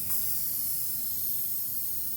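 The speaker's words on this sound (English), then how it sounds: "so you just shake the bottle, and I'm just applying one single coat." A steady spray hisses from a shaken spray bottle as a single coat is applied, a continuous close airy rush lasting the whole moment with no pauses and no talking.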